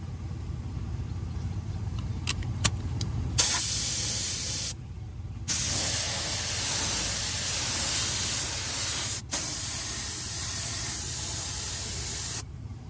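Clear coat sprayed onto a Porsche Cayman alloy wheel during curb rash repair, in long loud hissing bursts with short pauses between passes, no talking.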